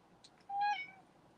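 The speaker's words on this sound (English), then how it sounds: "my cat's meowing at me." A house cat gives a single short meow, close by but quiet, rising and then falling over roughly half a second in an otherwise calm room with no talking.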